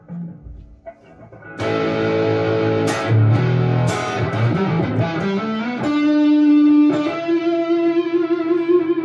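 A 2001 Fender Stratocaster American Standard electric guitar plays through distortion, with loud, sustained overdriven chords and ringing single notes after a quiet start. The tone is thick and reverberant, and no voice is heard.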